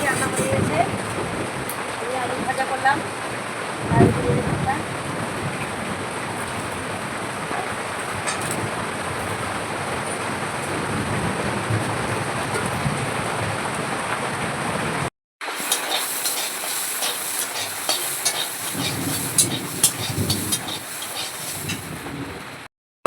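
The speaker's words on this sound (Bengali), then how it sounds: "দু তিন দিন থেকে বৃষ্টি এখনও বৃষ্টি হচ্ছে" Steady rain falls outside after several days of continuous downpour, a dense, even hiss that holds for about fifteen seconds, cuts out briefly, then returns slightly thinner and brighter.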